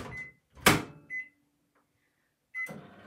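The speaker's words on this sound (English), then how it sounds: "I'm just going to pop this in the microwave just for 5 seconds" Microwave oven briefly run to soften stiffening chocolate for Halloween lollipops, with a short sharp clunk of the door and a beep tone, then quiet before another beep and clatter.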